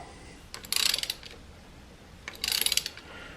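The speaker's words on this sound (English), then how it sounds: "And then use your ratchet." A hand ratchet turns a spark plug during spark plug thread chasing, giving two bursts of quick, close clicking separated by a short pause.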